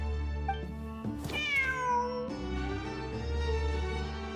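A cat meows in a video game event scene: one drawn-out, falling mew rises over a steady musical drone, alone without talk.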